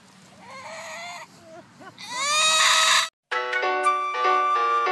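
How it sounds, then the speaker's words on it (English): A group of local turkeys gobbles loudly and close by, several harsh, warbling calls overlapping in bursts with a brief break partway through. "It's the local turkey gang."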